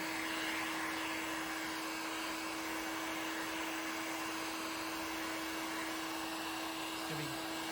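A heat gun blows steadily over fiberglass on a car body being joined to its chassis, a constant airy roar with a faint hum, unbroken for the whole stretch.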